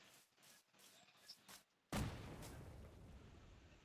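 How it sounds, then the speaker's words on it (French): A bomb explodes in the Minecraft video game with a single sudden loud blast that decays into a sustained rumbling roar, following a stretch of quieter game sounds. "On va essayer le bombe là pour voir."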